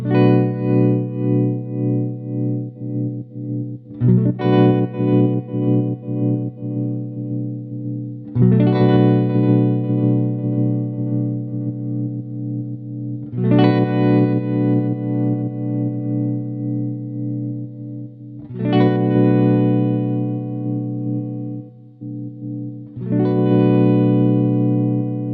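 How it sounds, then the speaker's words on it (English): Guitar chord played repeatedly through a Walrus Audio Monumental analog tremolo pedal, struck about every four to five seconds and left ringing as the pulsing volume shapes change; no talking. "I'll play one chord and then sweep through it so you can hear the difference."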